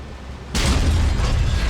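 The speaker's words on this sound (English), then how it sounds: "There we have the bridge destroyed." A bridge blows up during a video game mission. After a moment of low rumble a single loud, broad blast hits and keeps roaring at full strength to the end.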